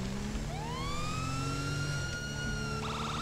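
A police car siren in the video game LSPD First Response wails in a rising, sustained tone and then shifts into a rapid yelp near the end, loud and up close with no talk.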